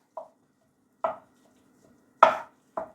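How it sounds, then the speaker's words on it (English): Minced meat frying in olive oil in a pan is broken up with a utensil, giving four separate, fairly close knocks and scrapes against the pan, spaced about a second apart over a faint low sizzle. "Break the mince up."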